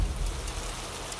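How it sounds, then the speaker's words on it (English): Steady rain falling at a camping gathering, a dense, even hiss of drops with a low rumble underneath, continuous and fairly close for about a second. "And then it started to rain."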